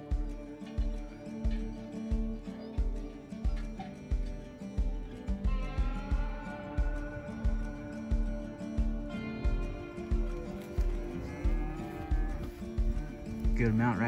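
A herd of cattle in an open pasture lows and moos repeatedly in overlapping calls, fairly close, with a steady rhythmic thumping underneath throughout.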